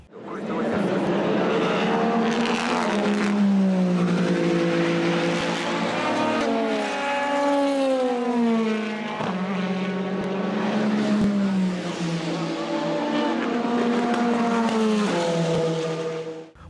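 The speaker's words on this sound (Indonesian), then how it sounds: "itu adalah mobil-mobil prototipe yang berkompetisi di kejuaraan WEC" WEC prototype race cars at full throttle, loud screaming engines rising and falling through gear changes, several cars blasting past close by one after another for the whole stretch.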